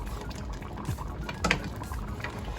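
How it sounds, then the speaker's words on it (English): Turkey neck gravy seasoned with onion powder, garlic powder and seasoning salt cooks down in a pot, a soft continuous bubbling and simmer with a couple of slightly louder blips, close and alone. "So you gotta let it cook. And let it cook down."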